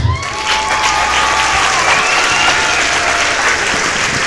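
A church congregation breaks into loud, sustained applause, a dense wash of clapping that stays steady throughout with faint voices and a few musical tones beneath.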